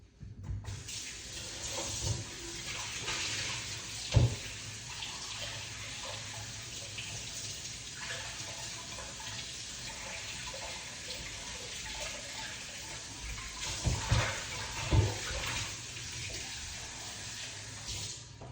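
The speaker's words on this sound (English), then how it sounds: "All right, let's wash off these ingredients." Tap water runs steadily into a sink as detox drink ingredients are rinsed under it, a continuous close splashing stream with a few brief louder splashes.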